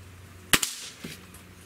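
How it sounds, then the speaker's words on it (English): A single sharp shot from a Gamo Swarm Magnum .22 multi-shot breakbarrel air rifle, a crisp loud crack followed by a quick second snap and a faint late thud, in an otherwise quiet setting. "Let's just do 5 shots over the crony."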